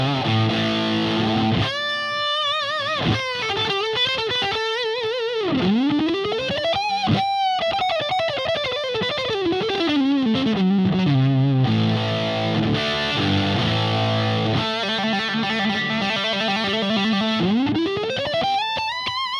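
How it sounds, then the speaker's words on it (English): A heavily distorted electric guitar through an MXR Distortion Plus pedal, distortion at 3 o'clock, plays bending, sliding lead lines with sustained, gritty notes, alone with no voices, loud and continuous. "I'll put distortion to 3 o'clock and see how that affects things."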